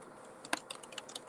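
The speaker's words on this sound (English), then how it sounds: "My fingers are typing." Quiet, close fingers typing on a computer keyboard: a sparse run of soft clicking keystrokes with one sharper tap, in an otherwise hushed room.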